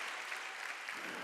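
A church congregation applauds during a worship service, producing a dense, continuous patter of many hands clapping at moderate distance with no pauses.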